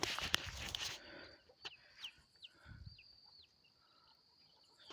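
Soft chicken clucks sound faintly outdoors as a rooster and hen roost in a vine, with rising chirping birdsong and a rustle at the start before it quiets.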